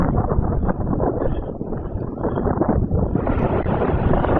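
Wind on Pakefield Beach in Suffolk, below the cliffs, buffets the microphone as a loud, continuous low rumble that lasts throughout.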